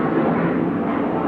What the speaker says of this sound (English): you can hear the jets flying over the house